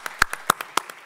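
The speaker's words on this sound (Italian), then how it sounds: "Qua scatta l'applauso," Scattered hand claps from an audience, a handful of sharp, distinct claps spaced irregularly over about a second.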